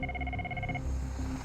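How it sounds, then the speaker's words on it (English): An air ambulance crew's scramble phone rings with a rapid electronic trill that stops partway through, over a steady low background rumble. "waiting for the scramble phone to ring"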